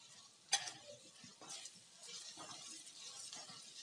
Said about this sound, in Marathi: छान असं आपण ते परतून घेऊया.